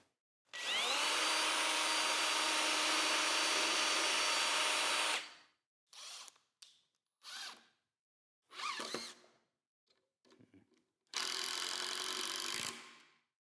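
A power drill drilling holes in wood for a cabinet carcass whirs steadily for about five seconds, then several short, sharp bursts follow with pauses between, ending in one longer run.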